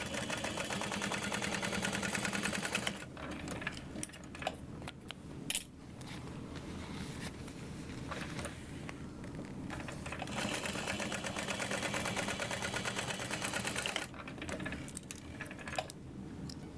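A sewing machine top-stitches a seam on a bag in long, fast runs of rapid mechanical chatter, pausing briefly a few times before resuming, heard close and fairly quiet.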